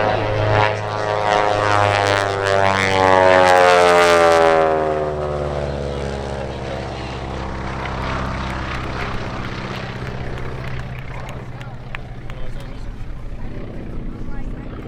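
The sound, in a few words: Beech 18 propeller airplane flying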